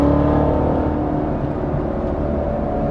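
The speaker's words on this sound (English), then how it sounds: "You can hear the supercharger a lot more now that I don't have headers." A supercharged V8 engine in a 1965 Corvette Z06 with Corsa exhaust and no headers rumbles steadily up close, a deep continuous drone with a faint high supercharger whine riding over it, holding at a fairly even level.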